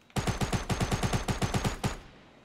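A loud, close burst of rapid automatic fire in Fortnite Battle Royale, about a dozen evenly spaced shots in quick rhythm lasting under two seconds, then a short fading tail.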